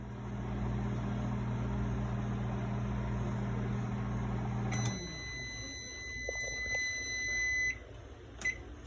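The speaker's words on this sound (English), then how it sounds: "I'm going to put it in the microwave uncovered" A microwave oven heating a travel muffin uncovered, a steady low electrical hum that stops abruptly, followed by a run of high electronic beeps and a faint click afterward.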